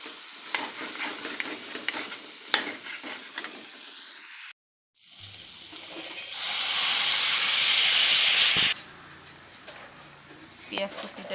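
Chickpeas go into a spiced pan; stirring clatter under a voice, a brief gap, then a loud steamy sizzling hiss that swells, cuts off, and is followed by further scraping and speech.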